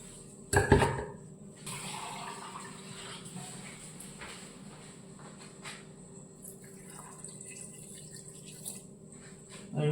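Water is poured into a pressure cooker holding clams. A sharp metallic clank comes first, then a faint, steady trickle and splash of water against the pot.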